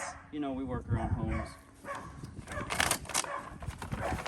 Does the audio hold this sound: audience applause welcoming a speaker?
no